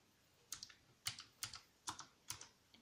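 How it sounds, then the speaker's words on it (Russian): Keystrokes on a Keychron V2 87-key mechanical keyboard, five distinct clusters of clicks roughly half a second apart, fairly quiet and close, with no talking. "Относительная тихость, если сравнивать с другими механическими клавиатурами."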